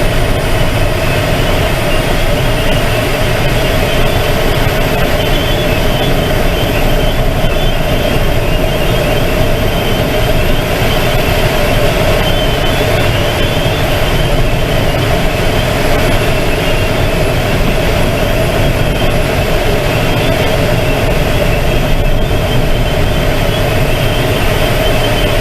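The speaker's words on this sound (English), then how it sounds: "Basically, we're just going to keep going up with the tow plane." A tow plane's engine drones steadily and loudly throughout a glider's aerotow climb, mixed with constant wind and airframe rumble, with no breaks and no talk.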